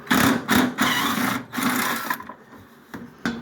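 A power tool backs out the two 1/2-inch bolts holding the battery tray in a second-generation Camaro engine bay, giving several loud, close whirring bursts over about two seconds, then short quieter taps and one brief final burst.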